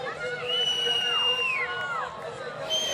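A crowd of fans cheering and shouting at a pump track race, a lively babble of voices with a few high whoops and cries over the top.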